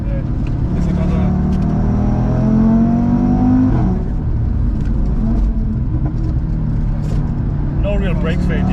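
Audi RS3 engine revving hard under acceleration on the Nurburgring track, a loud, steady roar heard from inside the car with voices talking over it.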